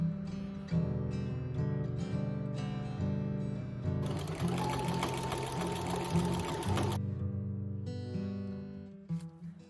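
A sewing machine stitches a patch over a stain on a thrifted garment's back panel, running in steady close bursts of rapid needle chatter with a longer continuous run in the middle, no talking.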